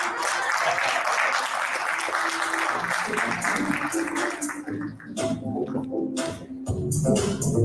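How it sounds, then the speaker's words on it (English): A conference audience at an HR event in Pune applauds steadily, a dense wash of many hands that thins midway into scattered individual claps and then swells again, moderately loud and fairly close. "Can we please clap till then?"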